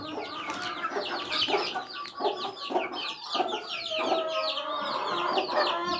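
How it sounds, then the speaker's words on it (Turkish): Chickens cluck steadily with high peeping chicks chirping throughout, a busy, close-up coop chorus with no pauses. "civcivlerimizin bölümü"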